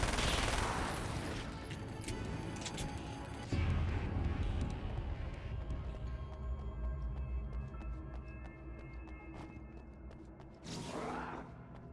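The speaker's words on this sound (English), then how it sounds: "Submachine gun!" Submachine gun fire in the Alan Wake's American Nightmare video game: rapid bursts of shots over clattering mechanical noise and thuds, with a sharp whoosh near the end and no speech.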